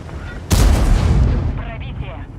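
A World of Tanks tank cannon fires in a sharp, loud blast that erupts suddenly and then decays into a rumbling tail over about two seconds.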